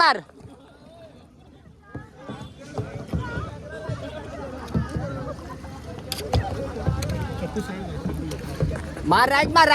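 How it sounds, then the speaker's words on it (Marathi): A small rowboat is paddled on the water during a Goa trip, with splashing strokes running under nearly continuous chatter and calls from the people on board. "हे बघा मित्रांनो बोटिंग करते पण मेघनाला काही जमत नाही."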